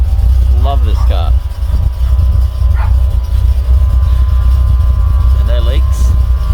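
A carburetted car engine runs steadily just after a cold start following fuel system modifications, a loud continuous low rumble throughout, with a voice talking briefly over it.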